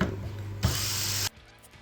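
A power drill with a 5mm bit bores through a plastic electronics enclosure, a loud close whine that runs steady for about a second and then cuts off, leaving quieter handling noise.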